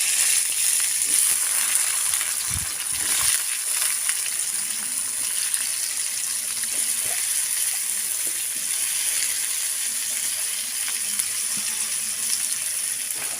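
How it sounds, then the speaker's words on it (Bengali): Potatoes fry in salted mustard oil with a continuous, bright sizzle close by, punctuated by occasional light knocks and stirring sounds. "এবার আলুগুলো ভালো করে আমি লাল লাল করে ভেজে নেব।"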